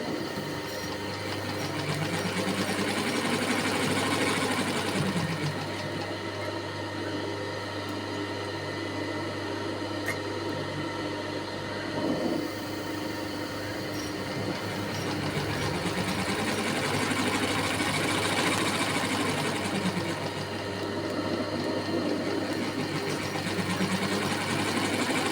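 A sewing machine stitches an embroidery design, its motor humming and needle clattering in a steady, continuous run for about 25 seconds, close and fairly loud with a slight rise and fall in pace and no voices.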